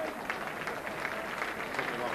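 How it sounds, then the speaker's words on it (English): Bradford fans at a 1995 football match against Doncaster applaud an injured player leaving the pitch, a steady wash of clapping and crowd noise with commentary talk running over it. "A superb round of applause there for little Alex Green."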